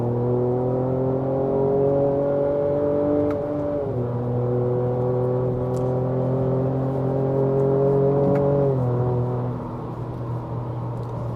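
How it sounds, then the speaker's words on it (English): Ford Ranger Raptor pickup truck engine droning steadily under load, its pitch dipping twice as it downshifts, heard from inside the cab with no talk. "The downshifts on here are kind of more impressive than the upshifts to me"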